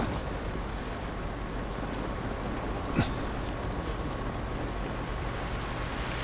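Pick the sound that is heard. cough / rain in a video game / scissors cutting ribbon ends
rain in a video game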